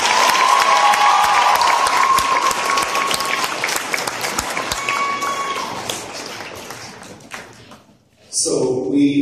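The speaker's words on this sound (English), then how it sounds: "another applause for Sarah and Kate" Audience applause at an 8th grade graduation ceremony, sustained steady clapping from a crowd that fades out before a voice comes in at the end.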